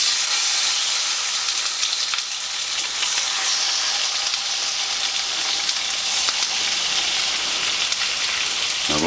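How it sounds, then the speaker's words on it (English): Pork spare ribs fry in a hot pan, giving a loud, steady, crackling sizzle up close that runs unbroken throughout. "And we just want to start sizzling, as we can hear it now."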